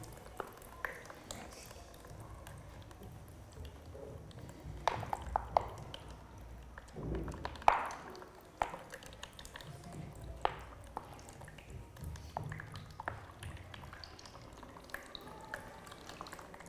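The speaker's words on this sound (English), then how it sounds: "You can see now the water starting to come all the way through." Water dripping through a filter during a Year 3 classroom science lesson on water quality, heard as sparse, irregular soft drips and small wet clicks over a quiet room background.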